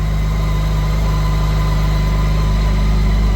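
A BMW K1600 GTL touring motorcycle, already warmed up, idles close by with a loud, steady, even engine hum and no talking.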